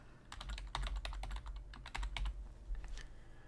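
Keys clatter on a computer keyboard as a token is entered into a gateway login field, a quick run of close, crisp taps in uneven bursts with brief pauses, no talking.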